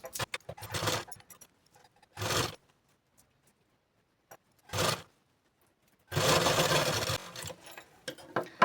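A sewing machine stitches blouse fabric for a katori blouse in short separate bursts of mechanical whirring with quiet pauses between, ending in one longer run.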